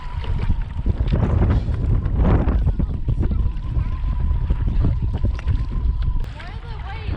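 Wind gusting across a lake while kayaking in the Lake District, a steady loud buffeting rumble over the microphone, with people talking over it and water splashing faintly toward the end.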